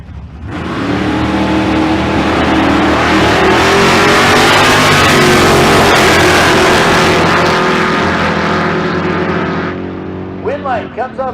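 A 1967 Camaro at a drag run on Famoso Dragstrip gives a loud, close engine roar that climbs through the gears for about nine seconds and then drops away, with a voice over it.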